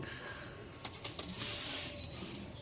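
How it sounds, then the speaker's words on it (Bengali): Pigeons of the Madras breed coo softly in the background, low and faint with a few brief flutters or clicks amid steady ambient noise. "দেখুন পায়রাগুলো"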